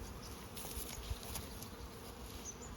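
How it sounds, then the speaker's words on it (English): Faint, steady buzzing of honey bees at a hive entrance hovers close by for a few seconds, with no voices. "So that's annoyed the old bees."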